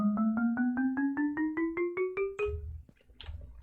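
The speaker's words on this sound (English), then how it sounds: "we're going to start with the xylophone from the iron block" Iron xylophone from a Minecraft note block on an iron block: a run of about fourteen bright metallic mallet notes climbing steadily in pitch at a quick even pace, clear and alone, followed by a brief soft thump.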